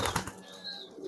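A young pigeon squab flaps its wings in a few quick bursts, followed by a faint, thin high call, close and quiet.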